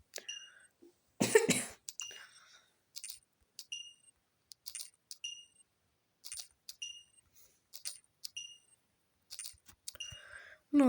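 A person coughs once, hard and close, in a single loud burst, then goes quiet among scattered small clicks and clinks.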